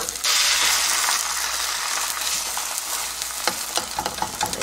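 An egg fries in oil in a small 22 cm frying pan, giving a loud, steady, close sizzle that runs throughout, with a few clicks and scrapes near the end.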